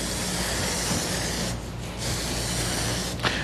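White spray primer hisses from an aerosol can onto stripped, sanded wooden furniture, a close continuous spray with brief pauses between bursts.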